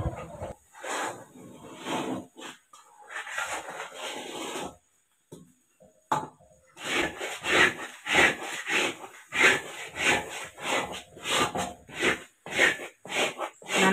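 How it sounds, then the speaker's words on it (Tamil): Malt mixture stirred in a pan over a slow flame, repeated rough scraping strokes in an uneven rhythm, loud and close, with a short pause partway through. "இப்போது ஸ்லோ ஃப்ளேமில் வச்சு கிண்டிகிட்டே இருக்கணும்."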